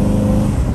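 Diesel engine of a remapped Toyota Fortuner revs hard and close, a loud, dense roar that stays at full intensity for a brief burst with no speech over it.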